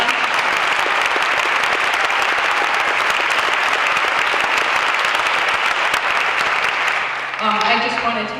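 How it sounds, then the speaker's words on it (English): Sustained, dense applause from a concert audience honoring event volunteers at a tribute concert, loud and steady for several seconds before tapering off into a few scattered claps and murmurs. "I would like to have everybody give a round of applause to all the volunteers that put this event together"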